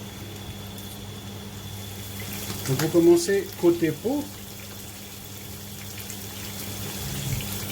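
Sardine fillets coated in corn flour frying in oil give a steady low sizzle and hiss that runs throughout, briefly under a voice speaking in the middle.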